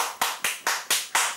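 Six sharp, evenly spaced hand claps from a man, close and loud, in a brief rhythmic burst with no talk.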